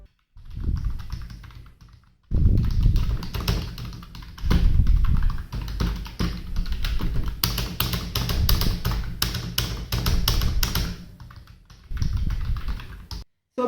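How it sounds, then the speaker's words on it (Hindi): A Portronics Bubble 2.0 wireless keyboard is typed on steadily for over ten seconds, giving soft, rapid key taps in bursts with brief pauses, close and clear with no talking. "टाइपिंग वाइज साउंड इतना ज़्यादा नहीं होता है"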